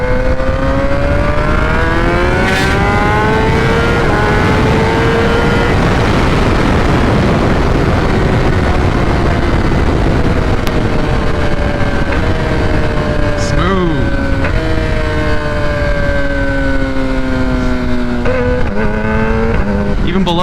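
A 2021 Kawasaki ZX-10 motorcycle with a BT Moto ECU flash revs repeatedly, its engine pitch climbing and dropping through loud, smooth sweeps, with someone talking intermittently over the exhaust.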